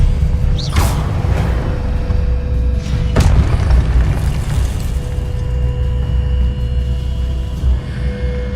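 Confringo blasting spell in the Hogwarts Legacy video game, two deep booming explosion hits with whooshing bursts over a steady loud rumbling game soundscape, no voices.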